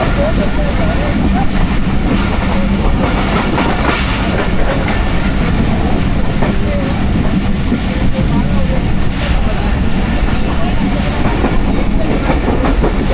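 Steady rumble and clatter of the Shah Hussain Express running on rails between Karachi and Lahore, continuous and close, with faint voices in the background throughout.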